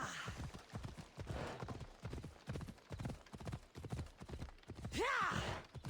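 Steady clip-clop of horse hooves as a rider travels in Assassin's Creed Odyssey, a continuous rhythmic trot in the foreground, ending with a short whinny near the end.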